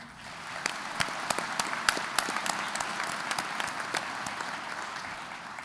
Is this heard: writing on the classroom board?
no